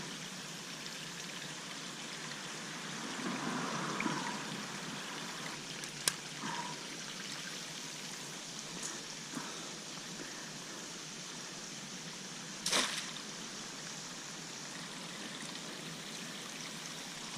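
Spring water flowing steadily through a small creek, a faint, constant trickle and burble with a couple of brief louder splashes, no voices.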